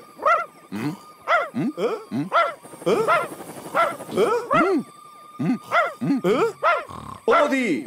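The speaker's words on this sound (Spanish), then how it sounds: "¡Odie! ¡Deja de ladrar!" A cartoon dog barks in a rapid series of loud, close yelps and bow-wows, some drawn out into whimpering howls, spread over several seconds in a Halloween Garfield episode.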